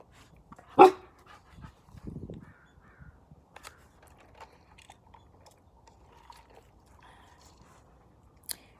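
Dogs playing let out a few sharp barks early on, then scattered faint scuffles and small noises follow in a mostly quiet setting.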